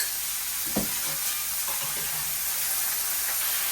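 Potatoes and green chillies fry in hot oil, giving a steady, close sizzle that fills the whole stretch, with a faint stirring knock near the start and no talk.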